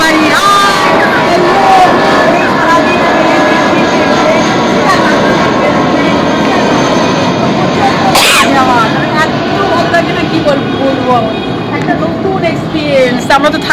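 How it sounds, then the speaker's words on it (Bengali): A passing train's broad, loud rumble and roar fills the whole stretch, steady and close, with a brief sharp burst midway. "তো ওই দেখো ট্রেন চলে যাচ্ছে"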